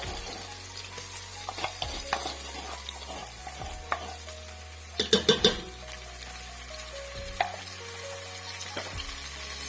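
Cumin seeds, garlic and ginger sizzle softly in hot oil in a pot while being stirred, giving a quiet steady fry, with a brief cluster of scraping clinks against the pan midway.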